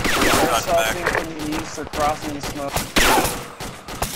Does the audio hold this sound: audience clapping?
no